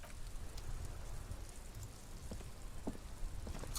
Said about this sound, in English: This rain will not let up anytime soon